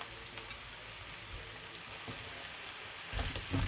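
Chopped vegetables for zucchini soup frying in a pan, giving a steady soft sizzle and crackle throughout, slightly louder near the end, with no talking.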